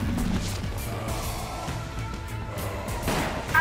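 Dense gunfire and crashing clatter from a Resident Evil zombie game, with steady, busy bursts of shots that keep on throughout and grow louder toward the end.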